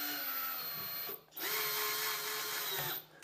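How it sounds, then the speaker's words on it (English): A power drill whirs steadily into a wall near a wood frame, stops briefly, then runs again in a long continuous burst, loud and close. "I can go ahead and start drilling"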